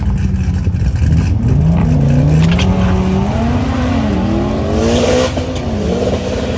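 A high-power manual double-drive car launches hard at a drag event, its engine revving loud and close with rising pitch as the tires squeal and the gears climb.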